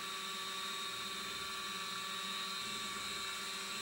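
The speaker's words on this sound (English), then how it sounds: "I'm going to start by spotting these 3 holes." A small drill spots holes in a thin metal boiler tube for a 1950 Fleischmann toy steam engine, giving a steady high-pitched whine with a low rumbling undertone, close and continuous, with no talking.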